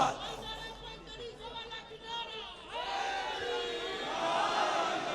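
A crowd chants slogans together at a religious jashn gathering, voices rising in rhythmic bursts that swell louder in the second half, mixed with cheering and chatter.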